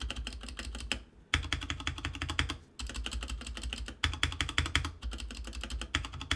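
Rapid close-up typing on a mechanical keyboard fitted with lubed Red Dragon stabilizers, dense clacking keystrokes in bursts separated by brief pauses.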